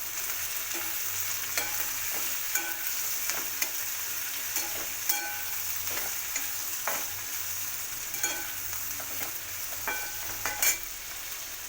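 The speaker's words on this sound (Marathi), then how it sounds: "आता हळद टाकून आपण मिक्स करून घेऊ" Chillies for pickle fry over low gas while turmeric is stirred in, producing a continuous soft sizzle with repeated spoon scrapes and clicks against the pan at an irregular rhythm, close and with no voices.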